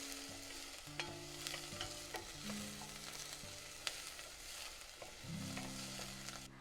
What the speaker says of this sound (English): I like for the onions to get some color on them, so I'm going to let this cook for just a bit